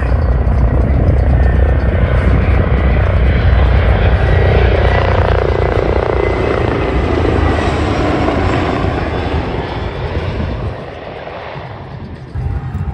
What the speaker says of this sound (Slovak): Po prestávke prišla paráda, priletel vládny špeciál.